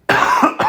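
Two sharp, dry coughs from one person close to the mic: a longer burst followed by a shorter one, with no talking.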